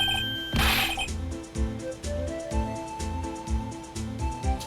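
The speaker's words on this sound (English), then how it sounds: "Phone call to Patrolman Jake Marshall." A telephone rings in the Ace Attorney video game: a bright, brief electronic ring bursts out early and then gives way to steady, rhythmic background game music.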